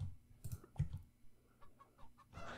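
Chicken emote sound from the Fall Guys video game: a string of quiet, clipped clucks in uneven bursts, faint and close with no talking.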